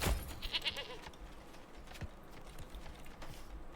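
Goats bleat in the Manor Lords village, a short cry near the start amid a busy bed of farm-animal and ambient game sounds, with no voices.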